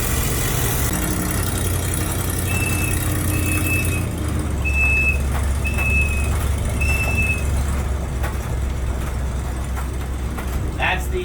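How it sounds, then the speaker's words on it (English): A 1936 Divco bread truck with a V8 swap idles with a low engine rumble while its emergency whistle sounds in several short, shrill, evenly spaced blasts, with people talking nearby. "That's the emergency whistle."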